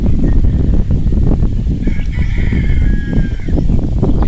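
A rooster crows clearly over a dense backdrop of clucking chickens and rustling, with the crow rising midway and trailing off.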